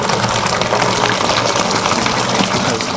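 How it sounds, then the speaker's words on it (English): Grape juice pours steadily into a wine fermenter in a steady, loud, continuous gush of liquid with no pauses throughout. "So we're going to pour the juice in."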